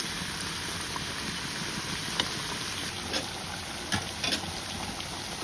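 Chicken roast sizzling in a pan after a little ghee is added, a steady soft frying hiss with a few faint clicks and stirs, no talking.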